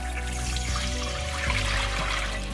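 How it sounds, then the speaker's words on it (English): Three cups of water poured into a Dutch oven for pot roast broth, a steady continuous splashing and trickling rush, close and fairly loud throughout with no talking. "we're gonna be dumping in 3 cups of water"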